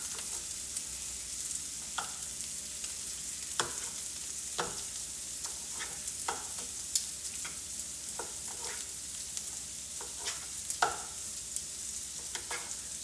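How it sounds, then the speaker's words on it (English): Bell pepper and onion sauté in a pan for baked beans, giving a steady low sizzle punctuated by irregular scraping stirs and clicks of the utensil, close and unaccompanied by speech. "So this is some bell pepper and onion, and we're gonna saute it."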